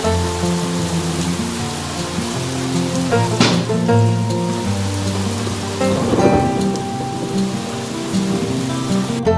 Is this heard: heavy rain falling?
yes